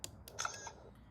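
A toggle switch on a Back to the Future remote prop is pressed, giving a few short plastic clicks and a faint electronic chirp, close and quiet with no talking.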